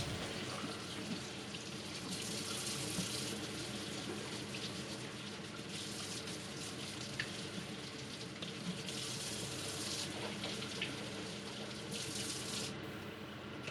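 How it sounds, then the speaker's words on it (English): Tap water runs steadily into a sink while capsicum is washed, a continuous faint hiss and splash with slight surges, no voices. "you have to wash the capsicum, and you have to take the insides out"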